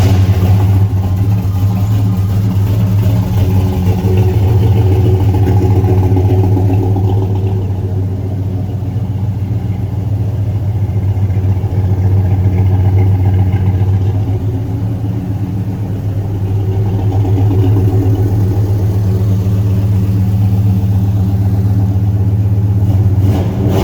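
A Squarebody truck's engine runs steadily with a deep, loud rumble, holding a low idle with slight swells in revs, close and alone with no talk.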